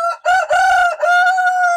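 Backyard chickens in an outdoor garden setting, with a rooster giving a loud, close crow in several strong harmonic bursts and brief clucking at the start, with no speech.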